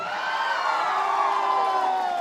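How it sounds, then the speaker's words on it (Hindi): A crowd at a student welfare association cultural program cheers and whoops in a steady, dense roar that holds for about two seconds without any spoken voice. "अपने लिए जोरदार तालियां एक बार फिर से।"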